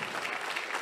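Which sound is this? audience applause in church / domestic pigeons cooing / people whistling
audience applause in church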